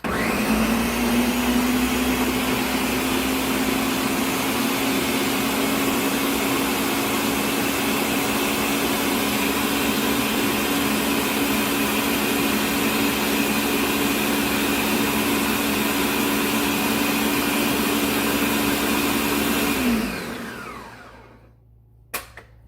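A blender whirs loudly and steadily for about twenty seconds, pureeing pears with pineapple juice, then winds down and stops, followed by a faint clunk.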